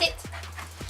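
A pet dog in a home kitchen pants with a faint breathy rhythm and lets out two short rising whimpers close to the microphone, the whole burst quick and fairly quiet.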